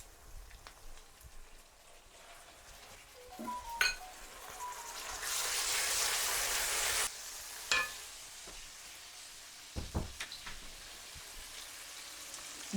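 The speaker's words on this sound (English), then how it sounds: "the onions have been cooking for around 10 minutes. We're now going to add in our the garlic" Onions sizzle quietly in a pan after ten minutes of cooking, then garlic goes in, bringing a few sharp clinks from the utensil and a loud, hissing burst of frying for about two seconds before the sizzle settles back.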